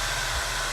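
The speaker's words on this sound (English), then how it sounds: "the blow dryer is hot" A blow dryer runs on its low setting while drying spray during a lace frontal wig install, giving a close, even, unbroken airy hiss.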